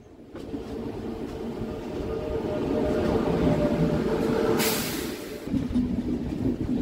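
Mumbai Howrah Mail 12809 pulling out of Kharagpur station, a loud steady rumble of rolling coaches and wheels on track, with a brief hiss partway through.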